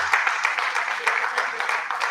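An audience at an annual in-house review and planning meeting claps for the executive director, dense steady applause with many hands close together, sustained at an even level for the whole stretch.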